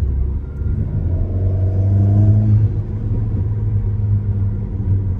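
The engine of an Alpine A110 R Turini sports car is heard from the cabin as a loud, steady low rumble that swells briefly as it revs, then settles back to a constant drone.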